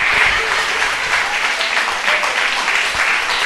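A church congregation gives loud, sustained applause to the Lord during an evangelist's sermon, a strong, close wall of clapping holding steady throughout.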